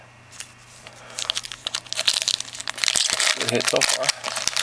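A foil wrapper on a pack of 2011 Platinum football cards is torn open and crumpled, loud close crinkling and ripping that grows busier, with someone speaking briefly over it.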